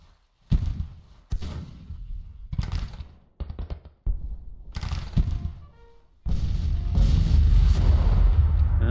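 Heavy booms of artillery fire from a Civil War battle in Grand Tactician: The Civil War, several separate loud blasts with decaying tails, followed by a sustained, dense rumble of cannon fire at the end.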